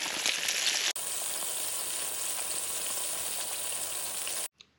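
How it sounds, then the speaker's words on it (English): Pieces of bluegill fish fry in hot oil with a steady, close hiss of sizzling that cuts off abruptly near the end. "Let it fry up for a couple minutes."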